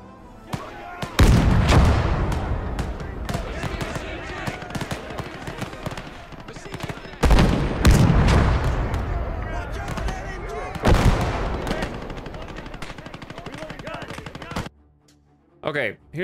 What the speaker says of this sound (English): we're shooting at them and so they're shooting at us